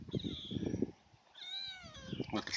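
Cat meowing several times in a home workshop where a 1951 Massey Harris 44 tractor is being worked on, drawn-out tonal calls close by, with someone speaking briefly between them.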